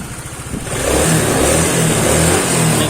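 A small engine fitted with a cheap aftermarket carburetor revs up close by, rising from a rough idle into a steady loud drone with a throbbing rhythm, with no voices over it.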